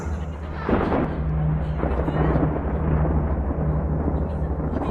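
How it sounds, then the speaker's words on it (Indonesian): A deep thunderclap breaks in and rolls on as a low, sustained rumble, with a faint steady hum underneath. "Sesekali kudengar suara petir di luar rumah."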